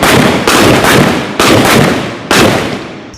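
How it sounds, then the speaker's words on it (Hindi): Indian Army pistol firing live rounds outdoors at the border, three loud, sharp shots spaced about a second apart, each followed by a decaying echo. "असली गोलियां अभी ये पिस्टल से फायर करेंगे"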